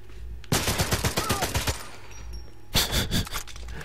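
Automatic gunfire in the video game 007 Legends, two loud rapid bursts of shots at close range separated by a brief pause.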